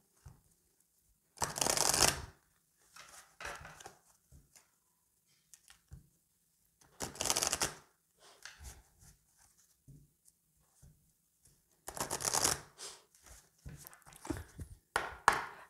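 Oracle cards being shuffled and laid out for a tarot-style reading, with several short bursts of riffling and shuffling separated by quieter taps and soft placing sounds, close and alone without talk.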